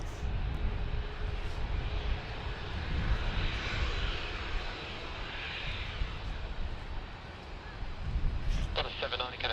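A fixed-wing airliner passes low over trees near Sydney Airport, its engine roar broad and steady for several seconds before easing, with faint radio chatter near the end.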